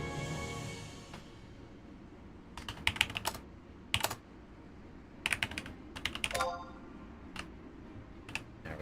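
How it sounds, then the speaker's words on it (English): Sparse bursts of clicky keystrokes on a computer keyboard, close and fairly quiet, arriving in short uneven clusters with pauses between them, with a faint murmur at the start. "You can hear me typing."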